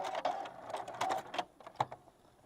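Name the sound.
sewing machine stitching off the corner of a quilt binding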